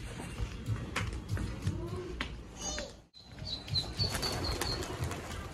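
A young pigeon taking off from a rooftop perch, a soft burst of flapping wings at close range in an outdoor setting, followed by faint bird chirps and distant background sounds.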